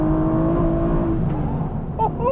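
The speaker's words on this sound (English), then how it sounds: "a 510 horsepower, 6-litre naturally aspirated V12" Aston Martin V12 Vantage with a 6-litre naturally aspirated V12, a loud close engine note rising in revs and then dropping away, with a brief pause before a second short blip.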